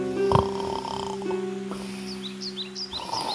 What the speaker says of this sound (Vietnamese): Và ngáy.